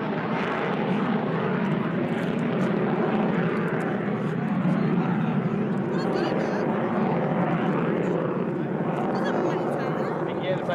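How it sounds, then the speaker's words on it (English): An F-15 fighter jet climbing at an air show display, a loud, sustained engine roar that holds steady across the clip, with a voice faintly under it. "demonstrating the climbing ability of the F-15"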